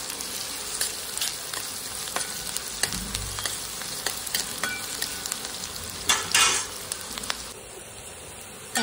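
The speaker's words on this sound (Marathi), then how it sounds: "त्याच्यामध्ये आता आपण कांदा टाकून घेऊया। वाटण करताना पण मीठ टाकलं होतं मी, थोडं त्याच्यामध्ये पण मीठ टाकते म्हणजे कांदा आपला लवकर मस्त फ्राय होईल।" Chopped onion sizzling in hot oil with cumin and mustard seeds in a pan, a steady close crackle and hiss with occasional stirring scrapes and spits, no voices over it.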